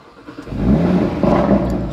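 An Audi RS3 engine cranks and fires up, then swells into a deep, loud rev close by before settling into a throbbing idle.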